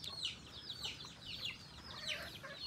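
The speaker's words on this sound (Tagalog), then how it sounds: "Ayan yung ibang manok." Several chickens cluck softly in short, repeated bursts, fairly quiet and close, with a faint steady background hiss.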